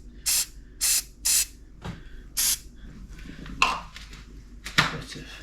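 Hairspray is sprayed onto model railway scenery in three quick close hissing bursts, followed by a few fainter, scattered sprays and small handling clicks.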